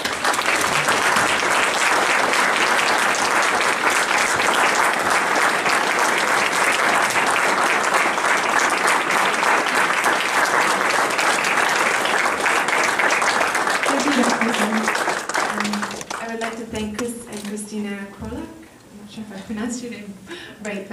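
A large audience at a pro-life evening gives someone a loud, sustained round of applause lasting about fifteen seconds, which then thins out and fades as a voice begins speaking.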